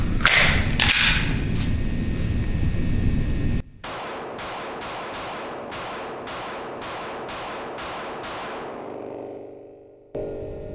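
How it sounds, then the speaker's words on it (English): Ten sharp, evenly spaced pistol shots from a Beretta APX A1, loud and close, each with a short ringing decay, following a louder burst of clattering handling noise; no talking. "That was first 10 shots through this thing."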